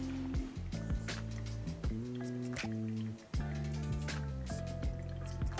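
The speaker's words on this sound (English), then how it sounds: "as this water starts to drain through" Water drains through a bed of Las Lajas natural coffee in a filter brewer, giving soft drips and gurgling trickles with bubbly squishing tones, close and quiet without talk.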